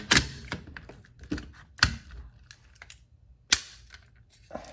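Rifle magazine for a 6ARC Knights LPR build being pushed in and seated, a handful of sharp metallic clicks and snaps spread through a quiet room, with no talk.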